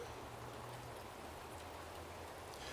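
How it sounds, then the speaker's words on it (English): Rain falls steadily on a cover, making a soft, even hiss of drops that stays faint and constant throughout with no talking. "the rain's really starting to come down"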